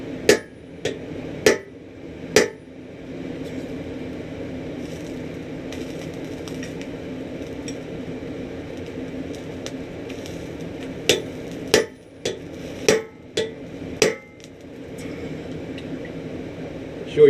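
A blacksmith in his shop hammering a one-inch-wide chisel into hot steel to punch an eye: sharp metallic strikes in a quick cluster at the start, a long gap of steady workshop noise, then another rhythmic run of blows.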